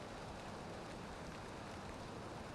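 Soft, steady rain falls in the Valheim survival game world, a quiet, even hiss of drops with no talking over it.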